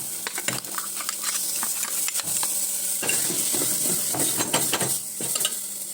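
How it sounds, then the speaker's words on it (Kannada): Spices crackle and sizzle loudly in hot oil as a tempering for sambar, a dense steady frying hiss broken by sharp pops and clinks of a stirring spoon against the pan. "ಸ್ವಲ್ಪ ಒಗ್ಗರಣೆ ಒಗ್ಗರಣೆ ಕೊಟ್ಕೊಂಡಿದ್ದೀನಿ"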